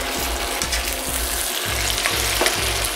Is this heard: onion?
yes